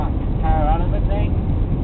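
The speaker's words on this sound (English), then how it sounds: "this wind really all of a sudden picked up" Strong wind suddenly picks up ahead of a sand storm in a South Hedland town: a steady, close, low roar and buffeting rumble across the whole stretch, with faint muffled voices underneath.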